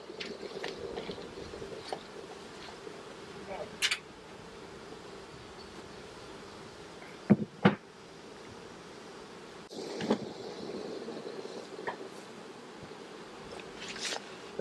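Honey bees buzz steadily around an opened hive during a honey harvest, a continuous close drone with occasional sharper knocks and clicks of frames and hive boxes being handled, and no talking.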